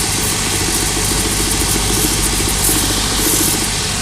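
A boot sole edge on a new pair of Tricker's Stow boots with a Commando sole being worked on a smooth finishing wheel, giving a loud, steady motorised whir and hum with no talking.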